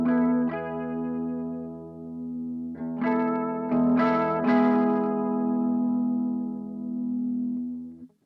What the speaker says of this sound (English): And then you've got flanger on there as well.